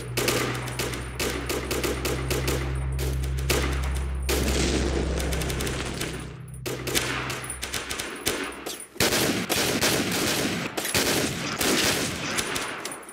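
Sustained automatic gunfire in a video game shooter, loud dense bursts of rapid shots with brief gaps, continuing throughout with a low rumbling undertone.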